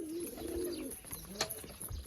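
Pigeons cooing nearby, a soft rolling coo followed by quieter murmurs and a rustle of movement, with a faint steady background hum.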